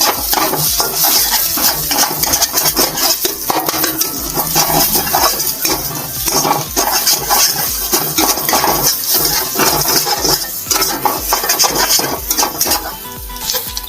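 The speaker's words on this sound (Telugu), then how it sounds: "లైట్గా కొత్తిమీర కలుపుకొని ఇది కూడా బాగా మిక్స్ అయ్యేలా కలిపేసుకుందాం" A metal spoon stirs egg bhurji with coriander in a pan, scraping and clinking in quick continuous strokes over a steady sizzle, loud and close throughout.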